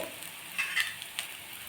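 Oil hits a rava roti frying on a pan, making a soft, continuous sizzle with a couple of brief louder hisses and light stirring.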